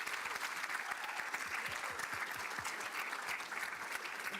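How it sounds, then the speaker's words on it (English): An audience at a church talk gives a sustained round of applause, many hands clapping in a dense, even wash that holds steady throughout, fairly far from the microphone and with no voices on top. "Let's hear a big round of applause."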